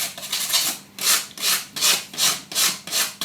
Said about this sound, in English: with a piece of fine sandpaper just smooth them down before we do the second coat